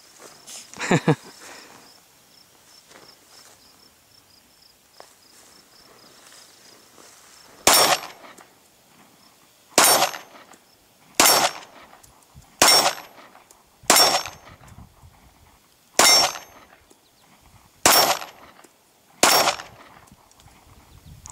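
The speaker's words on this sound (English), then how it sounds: "So we're gonna go ahead and shoot the remaining group of these reloads and see what it does." A Glock pistol fires reloaded ammunition outdoors: a lone early shot, then eight sharp, loud reports spaced roughly a second or two apart, each with a brief echoing tail, over faint insect chirping.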